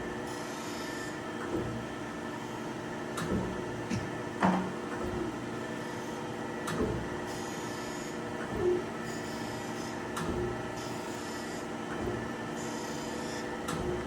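A Chevalier FSG-1228AD automatic surface grinder running, a quiet steady mechanical hum with a faint tonal whine, broken by soft periodic knocks and rubbing scrapes as the table travels back and forth.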